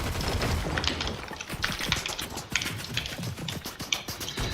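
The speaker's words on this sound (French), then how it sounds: "Ah, ça tire de partout." Rapid gunfire crackles from many directions in the video game Fortnite, with sharp bursts and scattered shots overlapping in a busy, continuous barrage.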